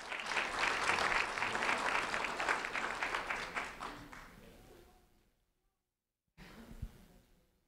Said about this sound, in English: a round of applause for Angel Valdez, please